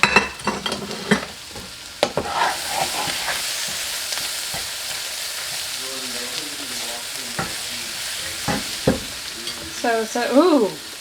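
Rice browns with cumin and turmeric in a hot pan, giving a steady close sizzle broken by repeated scraping stirs and utensil knocks. Brief voice-like tones surface toward the end.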